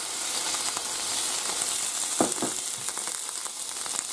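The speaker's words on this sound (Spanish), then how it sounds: "Ya se ha calentado el aceite, echamos las setas" Mushrooms tossed into hot oil in a pan for spaghetti with mushrooms and anchovies, a loud, dense, steady sizzle close up with a brief clatter midway.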